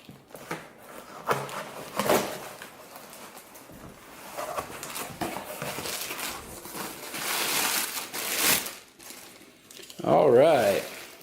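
Paper packaging crinkles and crumples close up as a mail parcel holding a reference book about guns is opened, in irregular rustling bursts and louder crackling near the end, with no speech over it.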